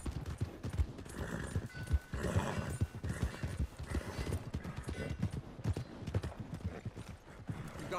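Horse hooves clip-clop steadily while a horse whinnies, heard in the Red Dead Redemption 2 video game, with the hoofbeats continuous and close amid other game sounds.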